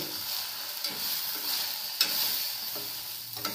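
White sesame seeds sizzle steadily in a hot pan for stuffed eggplant, a constant crackling fry with a few soft stirring scrapes and light taps, close and alone, with no voices.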